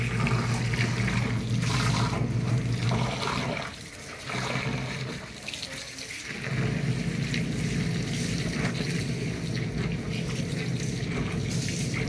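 Water churns and swirls steadily inside a spinning motorized tub, a close, continuous rushing wash that briefly dips in strength midway before surging back.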